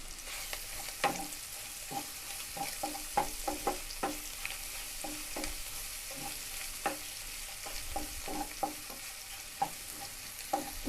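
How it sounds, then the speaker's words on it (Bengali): Sausage frying in a pan after eggs, a soft steady sizzle under frequent light taps and scrapes of a spatula, fairly quiet and close. "এখন এখানে আমি সসেসটা একটু ফ্রাই করে নিই।"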